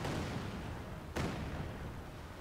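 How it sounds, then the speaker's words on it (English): A Katyusha rocket artillery creeping barrage in Company of Heroes 2 gives a constant rumbling wash of distant fire, broken once midway by a single sharp blast before the roar settles back. "the Katyusha is gonna be doing a creeping barrage"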